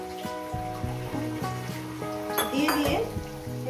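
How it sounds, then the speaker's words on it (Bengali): Katla fish head chorchori fries with spice paste in a pan, a continuous sizzle under repeated scraping and clanking of a utensil against the pan, growing busier toward the end. "চচ্চড়িটাকে আমি মিনিট 2 ধরে মশলার সঙ্গে কষিয়ে নেব।"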